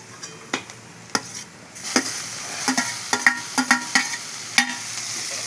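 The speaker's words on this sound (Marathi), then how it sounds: "याला बी चांगलं आपण परतून घेऊया." Tomatoes and onion sautéing in a pan, with a spoon knocking and scraping in irregular sharp taps over a steady bright sizzle that swells partway through, close and without speech.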